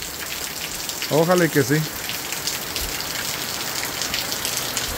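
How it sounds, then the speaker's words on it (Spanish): Heavy rain pours down steadily in a garden with bougainvillea and geraniums, a dense continuous hiss of drops on surfaces throughout, with a brief spoken remark near the start. "no había llovido tan fuerte estos días que han estado pasando"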